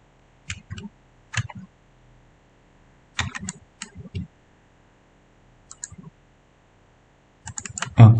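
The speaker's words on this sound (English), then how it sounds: "press W on your keyboard to make the connection" Sparse clusters of computer keyboard key presses and clicks, typed in short bursts with pauses between them, close and fairly quiet, with one louder thump at the end.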